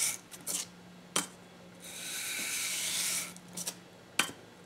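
Leather splitter blade rubbed flat on a granite block, likely with 320 grit, giving a broad steady rasping stroke in the middle with a few short sharp scrapes before and after, close and fairly loud, no voices.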